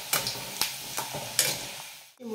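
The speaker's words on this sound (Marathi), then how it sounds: "मी असे 4-5 मुटके टाकून घेणार आहेत, बघू शकता तेल खूप छान तापलेले आहे।" Wheat-flour dough balls frying in hot oil, with several sharp stirring scrapes cutting through a soft steady sizzle, then a brief low clatter at the end.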